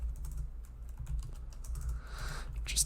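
Quick, steady keystrokes on a computer keyboard, close and fairly quiet, with a slightly louder burst of taps near the end and no voices.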